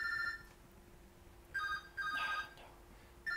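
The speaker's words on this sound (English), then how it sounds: "somebody's phone" A telephone rings in short repeated electronic bursts with pauses between them, moderately loud against a quiet room hum, and nobody speaks.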